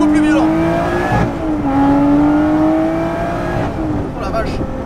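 A Lotus Exige 430 Cup engine roars loudly up through the revs, pitch climbing in surges with brief dips between gear changes, heard from inside the car.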